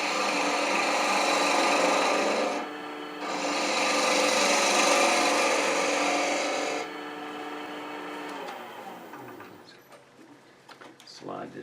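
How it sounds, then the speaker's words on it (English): Spindle gouge cutting a piece of wood spinning on a lathe for a baby rattle, a steady loud rasping scrape that pauses briefly, resumes, then fades into quieter tool sounds. "So let's take it down a little bit right here. I'll do that with a spindle gouge."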